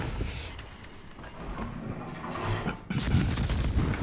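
Naval gunfire from warships in World of Warships, a rumbling barrage of distant booms that builds, then a heavier crack of a salvo near the end, followed by continued rolling reports.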